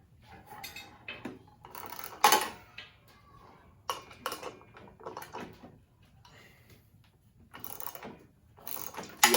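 Metallic clicks, ratcheting and clunks come in short irregular bursts as the blade bolt on a chop saw is worked loose with a wrench, with quiet pauses between the sharper knocks.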